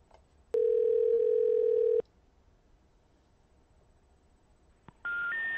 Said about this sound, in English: there's one more voicemail here on the Google Voice